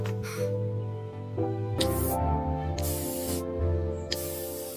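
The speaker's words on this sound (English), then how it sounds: "Just a little spray." A steady hiss of aerosol spray comes in short repeated bursts over a sustained tonal background.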